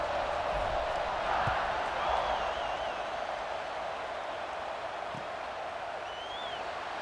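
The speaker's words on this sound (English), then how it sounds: "this crowd is feeling themselves after that last drive" Stadium crowd noise from the EA Sports College Football 26 video game, a steady broadband roar around a kickoff with faint whistle-like tones over it, continuous and fairly loud throughout.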